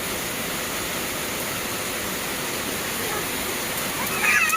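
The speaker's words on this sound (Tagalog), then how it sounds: "Biglang bugso ng ulan dito sa amin" Steady, dense hiss of heavy rain pouring down without pause, loud and close, with a slight swell near the end.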